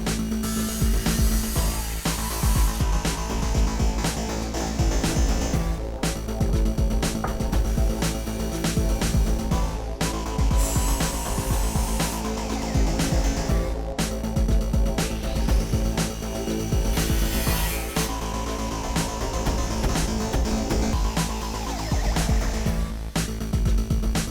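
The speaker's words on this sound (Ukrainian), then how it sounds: "і тепер випилюємо болгаркою" An angle grinder whines continuously as it cuts through an aluminum LED lighting profile, a harsh, loud grinding that rises and dips throughout.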